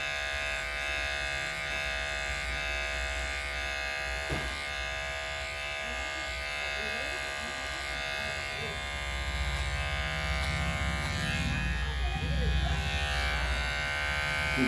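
Electric hair clippers trimming the side of a head for a zero fade haircut, a steady close buzz running throughout with slight shifts as the blade moves, someone talking quietly over it.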